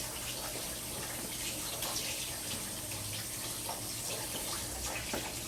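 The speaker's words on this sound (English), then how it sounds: "Now, let's use the tap water. I'm going to get lots of pressure going to get that soap off" Steady rushing water from a tap runs continuously at high pressure over a hand, rinsing off soap, a broad even hiss with faint splashing and no voices.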